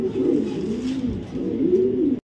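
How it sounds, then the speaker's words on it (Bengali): A pair of racing pigeons of Netherlands and Belgium bloodline, a male and a female, coo close by in repeated soft, rolling calls that run almost continuously before cutting off abruptly. "এটা হলো মাদিটা আর ওইটা হচ্ছে নটটা, একদম টপ কোয়ালিটির এক জোড়া কবুতর"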